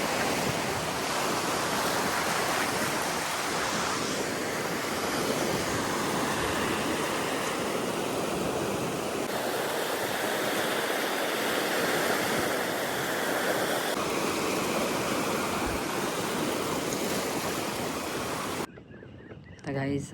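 Sea waves at Saral beach near Alibag make a continuous broadband roar of surf that stays loud and even throughout, then drops off abruptly near the very end.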